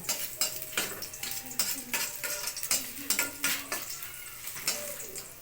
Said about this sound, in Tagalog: Gisa muna tayo ng bawang.